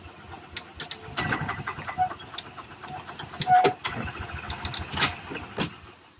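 A Club Car Carryall utility vehicle's engine runs near and fairly loud, its steady drone broken by sharp clatters and bumps, with brief voice sounds mixed in.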